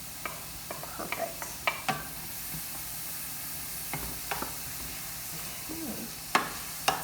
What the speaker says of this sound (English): it's starting to sizzle now. All right, I'm gonna put the onions in and the bell pepper.